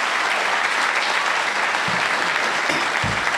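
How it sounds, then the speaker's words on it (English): Audience applause for a political youth group at a Democratic Party event at George Washington University, a steady, dense wash of clapping filling the room without a break. "Give Josh and all the GW Young Dems a big round of applause"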